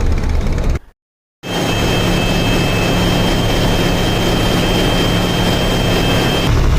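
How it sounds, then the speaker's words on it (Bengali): The large passenger launch Sundarban-16, cruising on the river from Dhaka toward Barishal at about twelve knots, gives off a loud, steady engine roar, broken once by a short silent gap before the drone returns unchanged. "বারো নটিক্যাল মাইলে এগিয়ে চলছে বরিশালের পথে সুন্দরবন ষোলো"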